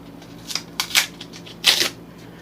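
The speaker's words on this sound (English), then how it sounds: "I'm going to go ahead and rip this one down." Cardboard backing from an emergency fire starter kit torn apart by hand, several short papery ripping bursts, the longest near the end, close and fairly quiet, with no talk.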